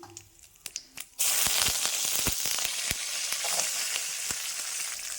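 Onion sautéing in a hot pan for a ridge gourd meat curry: a few light taps, then a sudden loud, steady sizzle that carries on with scattered scraping and stirring clicks.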